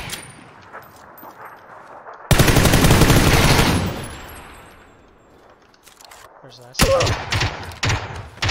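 Loud bursts of automatic gunfire in a PUBG-style shooter, a dense rattling volley of a few seconds followed by another sharp burst, with voices talking around it.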